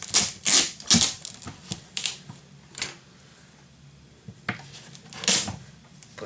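Scissors snip through paper for a scrapbooking mini-album in a series of sharp, close cuts spaced irregularly, with quiet pauses between them.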